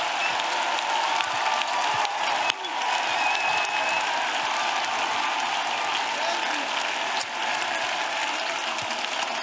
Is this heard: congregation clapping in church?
yes